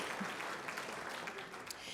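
Applause from an audience at a convention and visitors bureau awards ceremony, a steady wash of clapping throughout at a moderate distance, with faint voices mixed in.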